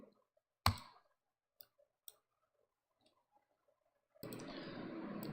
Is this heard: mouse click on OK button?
yes